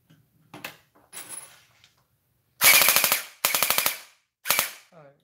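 A toy foam dart blaster with a feed problem, a few quiet clicks and handling, then three loud bursts of rapid mechanical rattling as it spins up and fires, close by.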